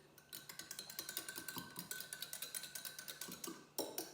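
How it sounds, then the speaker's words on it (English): A jar of stir-fry sauce with cornstarch shaken hard, giving a fast, steady run of rattling, sloshing clinks that repeat about five times a second for several seconds, close up, with a brief pause and a final louder jolt. "This is my stir-fry sauce. Give it a good shake"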